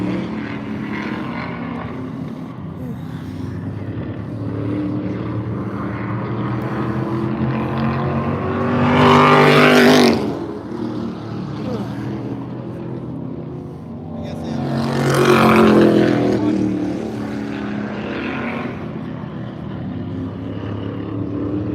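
Modified race cars roar around Oxford Plains Speedway, heard from a nearby house, with two loud passes swelling and fading at about ten and fifteen seconds over a steady engine drone and some background talk.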